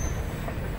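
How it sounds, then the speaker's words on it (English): A train rumbles at a busy railway station in Nagpur, India, a loud, dense low roar with metallic wheel noise and a faint high squeal over the whole short stretch. "we're at the railway station"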